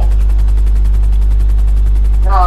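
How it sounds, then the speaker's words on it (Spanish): A helicopter in GTA V Online drones with a loud, steady rotor chop and deep engine hum, rhythmic blade pulses throughout, with a brief voice-like burst near the end. "me petará el helicóptero"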